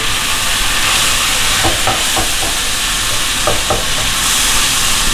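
Soy sauce and black pepper being stirred into a hot mixture make a loud, continuous sizzle, broken midway by a few distinct scraping strokes; no talking.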